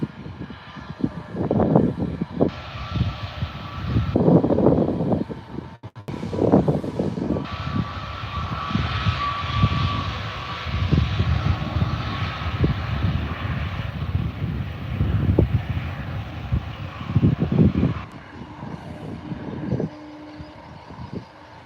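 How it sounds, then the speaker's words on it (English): An Air New Zealand airliner departing Adelaide Airport for Auckland, its jet engines roaring loud and steady for about twenty seconds, swelling and easing slightly before dropping off near the end. "here goes Air New Zealand then. Bound for Auckland."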